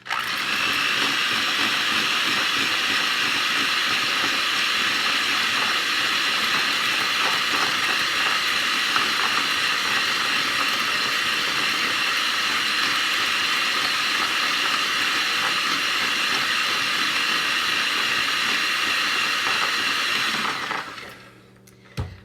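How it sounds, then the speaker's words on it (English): A powerful stand mixer mixing cookie dough runs at a constant, loud whir for about twenty seconds with a rattling, churning texture, then abruptly winds down and stops. "My mixer really doesn't know how to go slow. It's so powerful."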